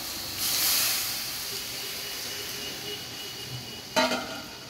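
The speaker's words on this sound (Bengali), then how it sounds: "এবারে আমি লাউ আর আলু সিদ্ধ যেটা করে রেখেছিলাম এটাতে দিয়ে দেবো।" Boiled bottle gourd and potato go into a hot pan of bubbling gravy, a burst of loud steamy hissing that fades, followed later by a sharp clatter and renewed sizzle near the end.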